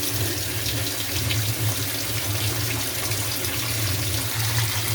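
Water pours steadily from a tap into a tub where OxiClean White Revive pods are dissolving, a constant rushing splash with a low churning rumble and no voices.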